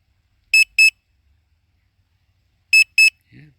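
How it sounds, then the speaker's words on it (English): A Hubsan Zino Mini SE drone app sounds a warning as two pairs of sharp, high electronic double beeps separated by a pause, loud and close, followed by a brief low murmur. "I'll get rid of that beeping sound."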